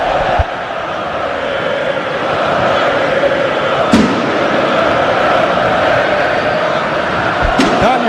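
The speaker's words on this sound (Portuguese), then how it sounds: "Ouça o barulho que faz a torcida vascaína do Maraca." A dense, continuous roar of Vasco fans filling the Maracanã stadium during the Copa do Brasil final against Corinthians, with a couple of sharp bangs cutting through the crowd noise.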